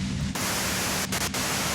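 Loud, steady white-noise static from the video game Disco Elysium hisses across the whole range without pause, with a couple of brief dips in its texture.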